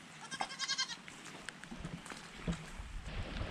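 A goat lets out a couple of short, wavering bleats nearby, followed by quieter rustles and light patter in the background.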